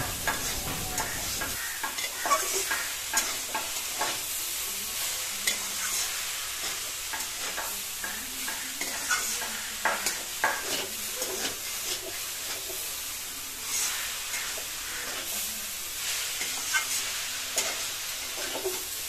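Cabbage and egg sizzle and fry in a pan under steady stirring, with continuous hiss and repeated scraping strokes throughout, close and fairly even in level.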